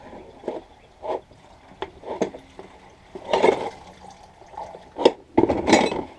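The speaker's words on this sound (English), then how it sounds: "just gonna rinse a little bit of water" Tap water running and splashing in short bursts while something is rinsed, with clinks of glass or dishes between the spurts, close and uneven.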